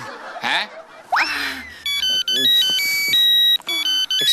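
A phone ringtone plays a bright electronic melody in the second half, loud and close, after laughter and talk from people nearby.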